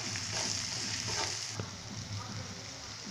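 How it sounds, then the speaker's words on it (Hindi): Onions fry in a pan while being stirred, giving a soft, continuous sizzle with faint scraping. The sound is fairly quiet and steady over a few seconds, with no clear talk. "इन्हें हमें बराबर तल के चलाते हुए भूनना है।"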